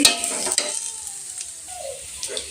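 Rice sizzles and crackles as it fries in a pan while stirred, with sharp scraping taps at the start and end and a faint whistle-like tone midway.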